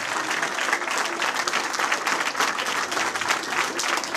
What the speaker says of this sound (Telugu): అన్న కరங்களை తట్టి గట్టిగా చప్పట్లు కొట్టి దేవునికి మహిమ చెల్లించండి.